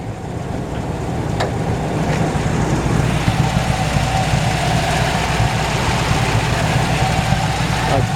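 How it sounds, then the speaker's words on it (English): A 1972 Chevrolet C10 truck engine idles steadily under the open hood, a close, continuous low rumble with an even, unbroken drone throughout. "A nice solid running engine."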